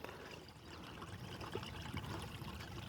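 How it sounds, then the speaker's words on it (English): Water trickling steadily through a Delta emergency gravity water filter, a continuous soft dribbling and pouring wash at low level with no pauses. "It's literally a drip, drip, drip through."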